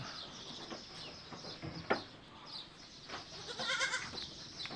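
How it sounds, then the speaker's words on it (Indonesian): A baby goat on a goat-breeding farm in Kuta Malaka, Samahani, Aceh, gives short bleats, one near the middle and another shortly before the end, over quiet barnyard ambience with faint bird chirps. "Ini ada anak kambingnya lagi mengembek."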